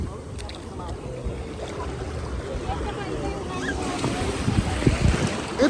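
Sea waves wash and churn in a low, rumbling rush that grows louder toward the end, with wind noise and people talking faintly in the background.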